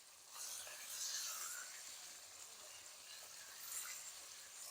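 Chicken frying with garlic for Chinese-style biryani, a faint, steady hissing sizzle with a soft swell near the start, heard at low volume with no talk.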